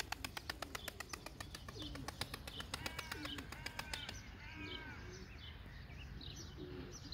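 A pigeon coos softly on a roof, its low repeated calls distant and faint beneath a steady rhythmic ticking and light chirps from other birds.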